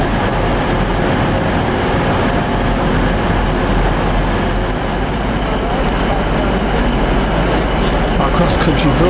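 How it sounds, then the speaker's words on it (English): A CrossCountry Voyager train pulls into Manchester Piccadilly station, a loud continuous rumble and roar that fills the whole stretch, with faint higher squeals near the end. "Cross-country Voyager soon arrived at Manchester Piccadilly at 1839."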